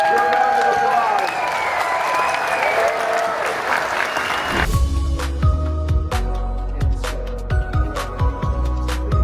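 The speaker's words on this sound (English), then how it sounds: "give this great, this fine, wonderful panel your round of applause" An audience at a live panel event breaks into sustained applause, with dense, steady clapping at first and then a sparser spread of individual claps and crowd noise.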